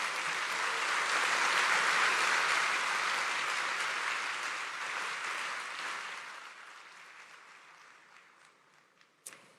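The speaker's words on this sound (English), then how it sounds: "Let's give them a round of applause." Applause at the IOC Session 2023 in Mumbai, a broad wash of clapping from a large audience that swells at first, holds, then gradually fades away toward the end with a few last scattered claps.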